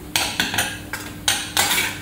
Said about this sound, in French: Nous allons bien remuer le tout.